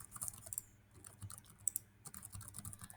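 Typing on a computer keyboard, quiet rapid key clicks in short bursts with a brief pause midway.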